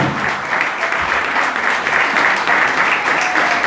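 A congregation at an evangelical church service bursts into sustained, loud applause, a thick continuous patter of many hands with faint voices mixed underneath.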